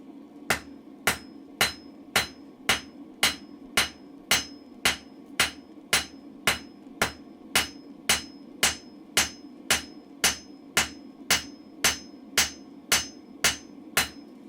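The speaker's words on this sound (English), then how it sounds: "putting my hammer at an angle." A blacksmith's hammer forges a short taper on a chisel bar, ringing out in sharp, evenly spaced metallic strikes, about two per second, loud and close with no talk.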